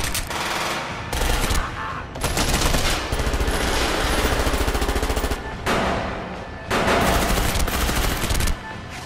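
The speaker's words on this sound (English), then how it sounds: "And then the shooting happens and it's all terrible." Dense gunfire from a movie shootout, loud and sustained, with rapid overlapping shots and bursts pausing briefly around two and six seconds before resuming.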